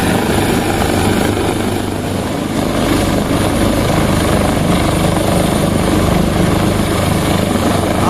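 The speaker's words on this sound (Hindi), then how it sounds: "अब ऊपर और नीचे की रस्सी के दरमियान में बिल्कुल हेलीकॉप्टर आया है।" A helicopter hovers over the Allai chair lift rescue in Battagram, its rotor and engine making a loud, steady, close drone that fills the whole stretch without a break.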